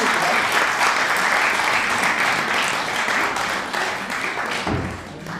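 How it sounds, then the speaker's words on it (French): A full audience at a mentalist magic show claps loudly and continuously for a volunteer, the applause holding strong before easing off slightly at the end. "On peut l'applaudir."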